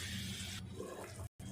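Water poured into a cooking pot while making chicken chana pulao, including the chickpea cooking water: a steady, close rushing stream that shifts in tone partway through, then breaks off briefly near the end.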